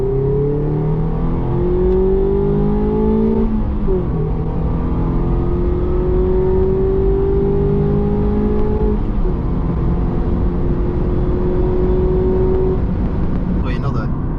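Mazda MX5 ND accelerating: engine revs climbing in repeated rising sweeps with gear changes, heard from inside the car with a steady road rumble and a voice talking over it.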